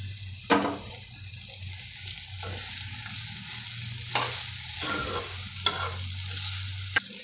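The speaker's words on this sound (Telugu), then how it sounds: "ఈ విధంగా రైస్కి అంతా కలిసే విధంగా నీట్గా మంచిగా కలుపుకోవాలి." Cooled rice being mixed into ivy gourd masala in a pan on the stove: a continuous soft sizzle with occasional scraping strokes of a spoon, close and steady, no voices.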